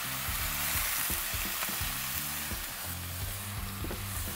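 Sautéed vegetables for birria sizzle loudly in a hot pan, with scraping and knocking from a spoon stirring them over a dense, steady fry.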